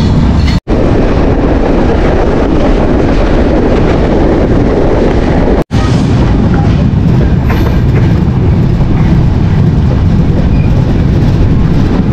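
The Chitra Express passenger train runs from Alamdanga toward Dhaka, Bangladesh, heard from inside as a loud, steady roar of rumble and rattling wheels with wind buffeting, briefly cut twice.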